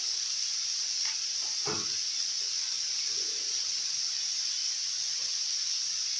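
Minced beef stew sizzles in a pot after a little water is added, a steady bright hiss with occasional soft clinks and stirring sounds, no talk.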